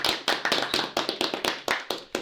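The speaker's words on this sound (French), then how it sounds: "Est-ce qu'on peut se faire un petit auto-applause?" A few people at a podcast recording applaud themselves, about a dozen sharp, close hand claps in an uneven quick rhythm with no talk.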